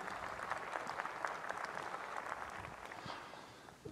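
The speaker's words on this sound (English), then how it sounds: "why don't you all give yourselves a big clap?" Dense, steady applause from the audience at the 2018 American Telemedicine Association meeting in Chicago, its 25th anniversary, fills the room with many hands clapping at once, fading slightly near the end.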